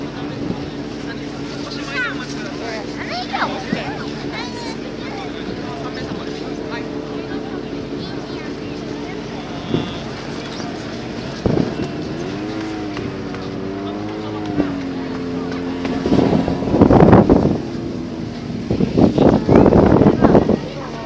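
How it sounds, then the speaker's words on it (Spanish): A snowmobile in Japan dragging a snow rafting buoy, its engine droning steadily in the middle distance and rising in pitch as it passes, with people talking throughout. "El snow rafting es como que una motocicleta de nieve te arrastra en una boya."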